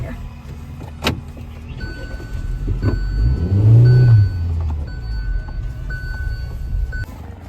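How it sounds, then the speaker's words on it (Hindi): A car is parked on a weekend road trip near Kasol and Manali; its engine hums steadily, swells into a brief louder rumble, then settles back, with a few small clicks and rattles. "गाड़ी पार्क कर दिया है हमने"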